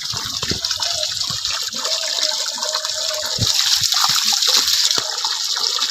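Chinese ducks drinking and bathing make a lively run of splashes and gulping dips over constant rushing water, growing a little louder and busier in the second half, close up with no speech.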